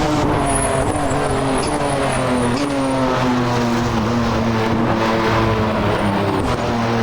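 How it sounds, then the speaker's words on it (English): A Porsche 993 GT2 EVO with a turbocharged flat-six accelerates hard around Circuit Zolder, its engine a loud, close, continuous roar with rising pitch through the gears and a faint turbo whistle. "You just settle into the seat, listen to the turbo, watch the speed climb and enjoy the moment."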